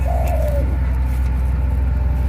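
A newly hatched bird chick gives a short, thin rising-and-falling call near the start, close by, over a steady low background hum.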